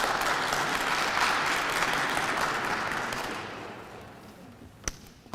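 Sustained audience applause closes a talk at an African professional conference, a dense wash of clapping that holds steady for several seconds, then thins out and fades, with a few last scattered claps at the end.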